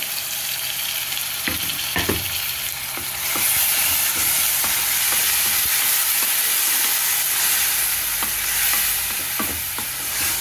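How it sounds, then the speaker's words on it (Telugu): Steady sizzling and frying of ground onion-tomato paste in a pan for mushroom curry, with occasional scraping stirs and clinks of a spatula, no voices. "ఇలా కొద్దిగా పచ్చివాసన పోయే వరకు వేయించుకోవాలి"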